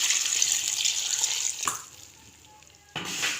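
Water pours into a cooking pot for beef paya for about a second and a half, a close splashing stream that cuts off, with brief quieter clatter before another short burst of pouring.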